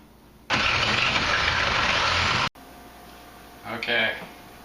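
A jigsaw cuts through a countertop in a loud, steady two-second buzz that stops abruptly, then a quieter stretch with a short muffled voice near the end.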